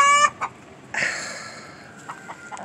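Black Copper Marans hens squawk and cluck in a backyard flock, a loud burst at the start followed by a sustained squawk and several short, fainter clucks.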